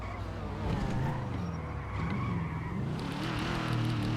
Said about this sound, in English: Is the engine really loud for you guys?